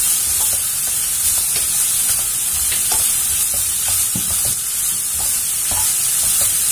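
Vegetables such as beans, capsicum and cauliflower are stirred and tossed in a sizzling frying pan, with steady frying hiss and repeated scraping clicks of the spoon close by, and no voices.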